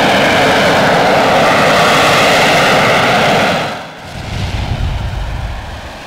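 An AV-8B Harrier II jet roars loud and close with a steady, broad engine blast, then fades and drops to a lower rumble near the end.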